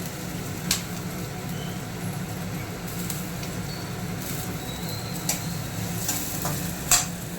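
Chopped onion and curry leaves frying in a pan for a banana stem stir-fry, a steady close sizzle with occasional stirring scrapes and clinks against the pan.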